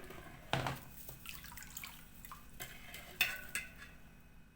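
Spoon stirring sugar and lemon salt to dissolve them in liquid for celery-flavoured gherkin pickles, a few clinking scrapes and swirls, one sharp knock near the start and another near the end, fairly quiet.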